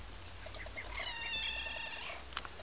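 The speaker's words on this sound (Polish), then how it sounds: "Jak ten kotek robi?" A small pet cat meows several times indoors, thin high mewing calls drifting over a quiet room with a soft background hiss and one brief sharp tick near the end.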